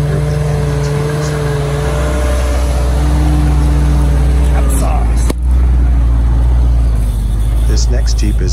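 A Willys Jeep named Thumper runs its engine loudly and steadily on the rocky Pritchett Canyon trail, with a low throaty drone that rises briefly near the end, and voices are heard over it.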